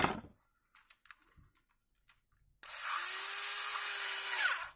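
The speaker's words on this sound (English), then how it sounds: "for this one I'll drill a smaller hole first" A power drill with a small bit runs into a plastic Logitech B170 wireless mouse, a steady high whine for about two seconds after some quiet tapping and handling noises.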